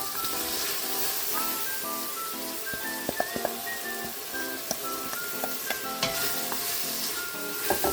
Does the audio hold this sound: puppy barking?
no